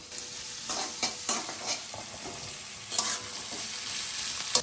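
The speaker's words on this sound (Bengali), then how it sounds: "প্রথমে ডিম কড়াইগুলো দিয়ে দেবো অল্প একটু রেডি করে নাড়াচাড়া করেই গাজর আর বাঁধাকপিগুলো দিয়ে দেবো" Beans and carrots stir-fried in a wok, a steady sizzle with repeated scraping strokes of the spatula at close range, no talking.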